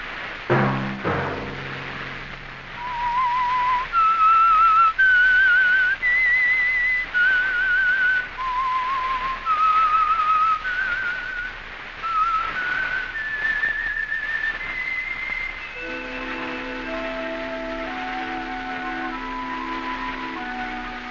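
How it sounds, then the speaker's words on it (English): A lone whistler carries the eerie theme melody of The Whistler, a radio mystery program, in slow rising and falling phrases, clear and prominent, ending with soft orchestral chords. "Let that whistle be your signal for the Signal Oil program, The Whistler"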